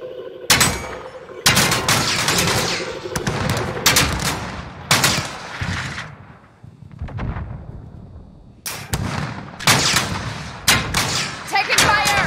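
Gunfire in Call of Duty Modern Warfare comes in loud, sharp bursts and rapid volleys with brief pauses between, close and intense, mixed with shouted voices and other battle noise.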